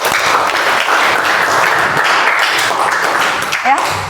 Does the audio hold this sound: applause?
yes